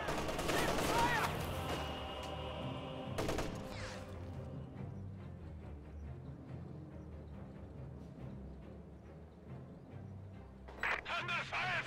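Infantry rifle and machine gun fire crackles through a World War II strategy battle, with sharp volleys at the start, a sustained low rumble of combat, and voiced unit callouts breaking in briefly.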